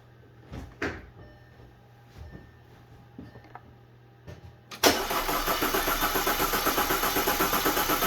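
A 2010 Audi A4 2.0T engine cranks steadily with a fast, even rhythm during a wet compression test, starting after several soft clicks and clunks in a quiet space, no talking.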